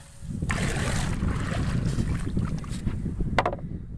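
A small fishing bangka sits on open water, with a low rumbling drone and wind buffeting the microphone, plus a few sharp knocks and splashes close by.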